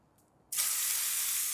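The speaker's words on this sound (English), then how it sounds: "That's a good sizzle." A steak hits a hot pan on a camp stove outdoors in freezing winter weather and bursts into a loud, steady sizzle after a brief quiet moment.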